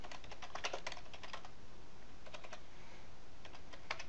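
Quick, steady tapping on a computer keyboard while entering calendar details, close and fairly quiet with no talking.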